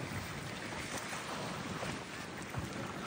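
Strong wind at Taal Volcano roars across the microphone in a continuous, buffeting rush, with no voices heard.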